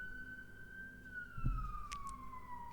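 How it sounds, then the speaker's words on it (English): A distant siren wails with a slowly falling pitch, and a few brief thumps and clicks are heard nearby. "A siren's just gone"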